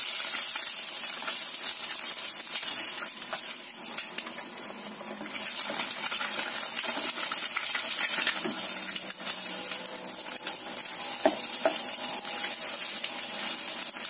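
Eggs sizzle and crackle in hot oil, a steady hissing spatter with occasional small pops and clinks.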